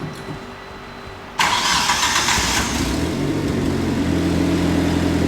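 A turbocharged AWD Eagle Talon starts abruptly after a short quiet crank, catching into a loud, close, steady idle that runs until it cuts off.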